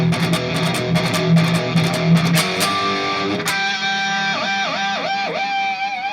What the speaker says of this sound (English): now we're getting into some heavier guitar tones with harmonics.